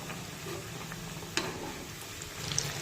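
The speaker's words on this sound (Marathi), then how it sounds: "उलटपुलट करत दोन्ही बाजूने छानपैकी या वड्या तळून घ्यायच्या आहेत" Shepu (dill) vadis shallow-frying in oil over a low-to-medium flame, a steady soft sizzle running throughout with one sharp clink partway through and faint stirring scrapes.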